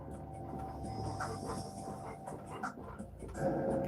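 A dog pants close by in a busy room, quick breathy puffs running under steady background noise and a low hum, with a brief louder swell near the end.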